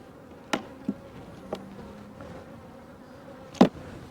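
Honey bees hum in an opened beehive, a faint steady buzz running throughout, broken by a few sharp knocks from hive handling nearby.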